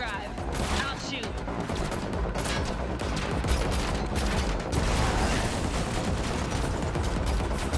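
Rapid gunfire bursts in the Matrix Awakens demo, a dense continuous fusillade of shots during a car chase, fairly distant and blended with engine and crash noise, with voices talking over it.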